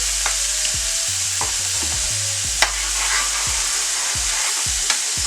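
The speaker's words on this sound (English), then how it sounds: "Stir it up." Garlic, peppers and vegetables sizzle in a little olive oil while being stirred in a pan, a steady close frying hiss broken by scraping utensil strokes and soft knocks, with no voices.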